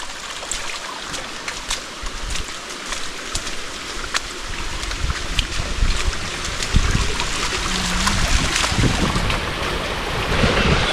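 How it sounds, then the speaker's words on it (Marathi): Rainwater rushes steadily down a gully in a Konkan village during continuous rain, giving a loud, broad, unbroken wash of flowing water that swells slightly toward the end, with wind buffeting the microphone and no voices. "हे पाणी असं कंटिन्युअसली या गलीला आहेच"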